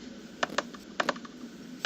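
Quick, sharp clicks come from a mouse or keyboard during a Five Nights at Freddy's demo: two close pairs of crisp taps, then a single click at the end, near and alone over a faint steady hum.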